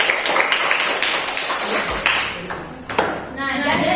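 Classroom audience clapping after a group presentation, a dense burst of hand claps that thins out partway through, with talking over the end.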